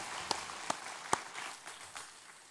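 A few sharp, scattered claps ring out from a church congregation during a worship service, then soften into light applause that fades away.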